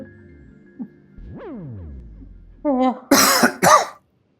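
A rising tonal sweep and a brief vocal sound, then two loud, raspy coughs up close, ending abruptly in silence.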